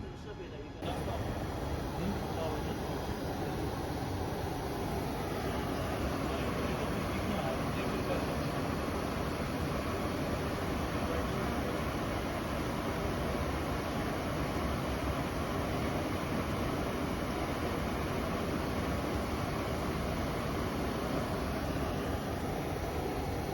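An automatic copper tube welding machine runs with a steady, dense mechanical hum and whir that holds unchanged for over twenty seconds after a brief start.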